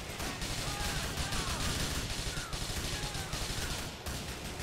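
Dense game gunfire in GTA IV during a bank robbery shootout, a continuous loud barrage of overlapping shots and crashes with no clear pauses.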